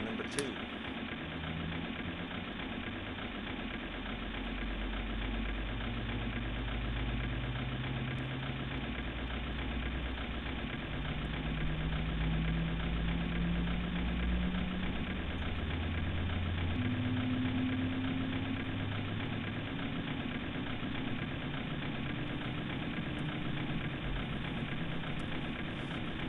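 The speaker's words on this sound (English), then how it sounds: "Start engine 2." Engine 2 of a Boeing 737-700 starts in the PMDG flight simulator game. A steady low rumble and hum runs throughout, with tones that slowly rise and shift as the engine spools up, continuous and fairly quiet.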